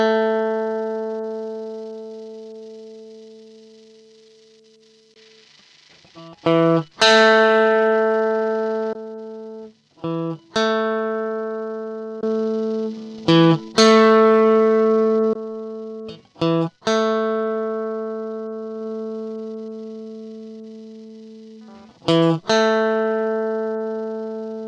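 An electric guitar played through a Donner Arena 2000 multi-effects pedal on a Vox amp model rings out in sustained, clean notes and chords, each struck sharply and left to fade slowly, with short pauses between.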